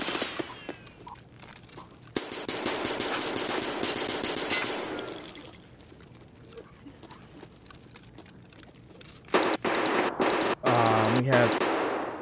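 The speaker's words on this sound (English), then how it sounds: "That gun sounds a little sketchy." Rapid automatic gunfire from a video game rattles in dense bursts, with a pause mid-clip and further rapid bursts toward the end, loud and close.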